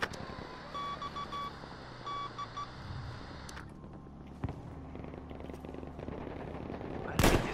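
Machine gun fire from Battlefield V gameplay sits among beeps, distant game noise and quiet talk, with a louder burst near the end.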